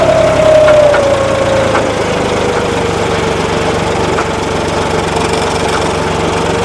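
A John Deere 5210 tractor engine runs steadily with its four-wheel-drive gear disengaged, giving a continuous, close, moderately loud idle-like drone with a faint rising whine at the start and no talk over it.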